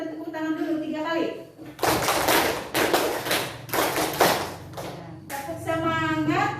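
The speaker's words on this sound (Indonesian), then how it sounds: "Oke, tepuk tangan sebelum kita belajar, kita tepuk tangan dulu 3 kali." A classroom of students clapping hands together in a group, a few loud rhythmic bursts of claps in the middle, close, with a voice talking before and after.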